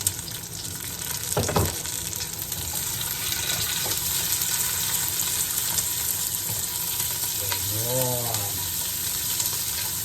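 Onion goes into a hot pan while fish tinola cooks. A sharp hit is followed by a steady, loud sizzle, and a brief watery burble comes near the end. No one speaks.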